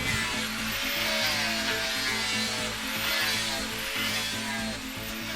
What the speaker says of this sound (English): Now we're going to start to sand and soften it up.